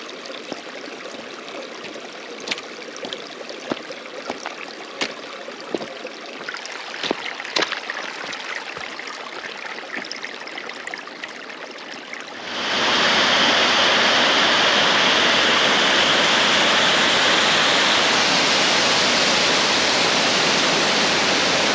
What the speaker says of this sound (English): It's a waterfall, so I thought I'd stop and take some pictures of it.